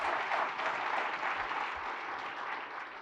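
Sustained applause from an audience at a city's state of the city address, a steady dense wash of clapping filling the whole moment at even loudness.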